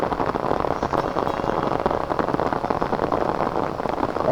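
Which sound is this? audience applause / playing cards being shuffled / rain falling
rain falling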